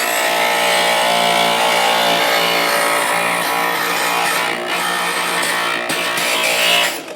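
A stained glass grinder, switched on by foot pedal, runs its spinning bit against a piece of glass with a loud, continuous rough grinding whine, close by, easing slightly near the end.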